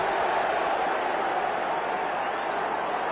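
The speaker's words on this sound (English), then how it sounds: "Crowd getting involved" Broad, steady roar of a large football crowd at a 2005 AFL match between West Coast and St Kilda, filling the whole stretch with continuous dense noise and no breaks.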